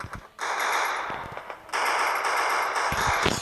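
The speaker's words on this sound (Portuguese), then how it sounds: "Você viu que eu tava atirando, atirei." Two long bursts of rapid automatic gunfire from a Free Fire battle, loud and dense, separated by a brief lull with a few scattered single shots.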